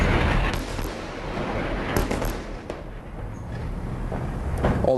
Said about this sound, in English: our cameras captured this explosion in Gaza City